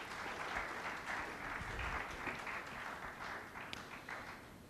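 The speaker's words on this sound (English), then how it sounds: "Can we have a huge round of applause for all of them?" An audience at a business panel event, IvyCap Day 2018, gives a big round of applause, with soft, distant-sounding clapping from a crowd that continues steadily without letting up.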